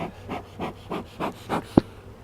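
Honeybees at a beehive buzz in a series of short, evenly spaced swells, about six pulses close by, ending with a sharp brief tick.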